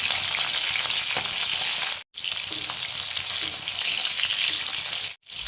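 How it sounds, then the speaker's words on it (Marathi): Cut green chilies frying in hot oil give a loud, dense, continuous sizzle close by, cut off abruptly by two brief silences. "गरम तेलामध्ये कट करून घेतलेल्या मिरच्या टाकून घ्यायच्या। मिरच्या आपल्याला छान तळून घ्यायच्या।"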